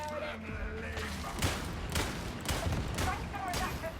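Grenade blasts and gunfire in the Warhammer 40,000: Darktide shooter, a dense barrage of sharp repeated bangs and booms at a steady rhythm, loud and close throughout.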